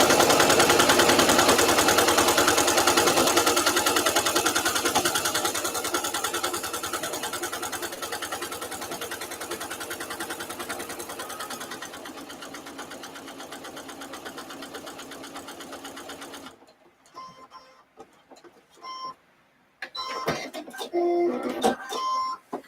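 A sewing machine runs a long steady seam on placemat strips, a loud close whirring hum that eases off partway through, then stops, followed by scattered small clicks and handling noises.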